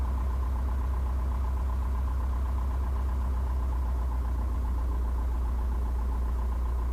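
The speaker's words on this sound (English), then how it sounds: "Idle at about 900 RPM." Light aircraft piston engine idling on the ground at about 900 RPM, a steady low drone with a constant hum and vibration throughout, close and continuous with no voices.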